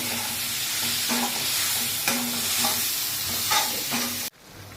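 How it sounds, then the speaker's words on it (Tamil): Jackfruit pieces sautéing in a pan for jackfruit payasam, a steady close sizzle punctuated by periodic stirring scrapes, ending in abrupt quiet near the close, with no talking. "இப்ப பாருங்க, அந்த பலாச்சோலையை கொஞ்சம் நல்லா வதங்கணும்."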